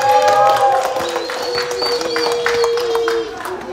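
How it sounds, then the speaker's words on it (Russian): A dance crew on the set of a music video claps and cheers, a dense patter of applause mixed with voices and crowd noise, close and loud throughout. "давайте аплодисменты."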